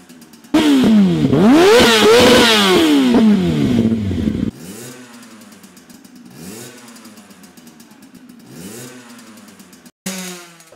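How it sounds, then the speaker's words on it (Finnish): A tuned moped engine revs hard and loud, its pitch rising and falling in repeated sharp whines, then continues at a lower level with several quicker rev cycles before a brief final blip. "Viritetty mopo kiertää yleensä nopeammin ja on ääneltään hieman terävämpi kuin vakiomopo."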